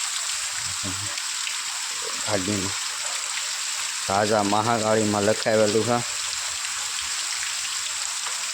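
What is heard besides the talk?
rain falling heavily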